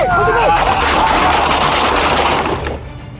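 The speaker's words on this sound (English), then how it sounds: "Gunfire breaks the silence, everything stops." Police gunfire during a nighttime confrontation with an armed suspect holding a knife: a loud, dense burst of rapid shots with shouting voices over it, echoing and then fading slightly toward the end.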